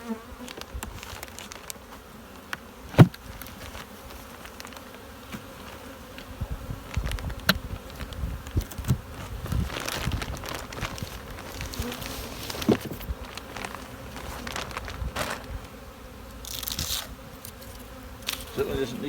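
A honeybee colony in an open hive buzzing continuously, a close, steady drone of many bees, with handling knocks and rustles of frames and occasional speech.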